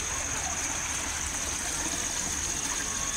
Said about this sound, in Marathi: ते पाणी जे पडतंय त्याचा छान आवाज येत होता